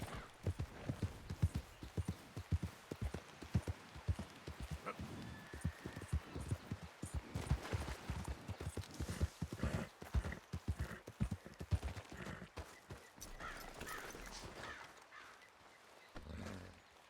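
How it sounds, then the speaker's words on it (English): Horse hooves clip-clop in a steady walking rhythm, close and clear, continuing for the whole stretch before easing off near the end. "Si me puedo ir en el caballo"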